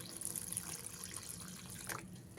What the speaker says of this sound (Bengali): ডালটা অনেকটাই ঘন রয়েছে দিয়ে দিচ্ছি পরিমাণ মতো গরম জল